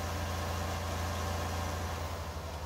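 An old Land Rover drives at about 25 mph in Farming Simulator 19, its engine a steady, even low drone with no change in pitch.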